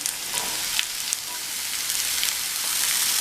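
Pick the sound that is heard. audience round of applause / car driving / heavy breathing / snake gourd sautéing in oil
snake gourd sautéing in oil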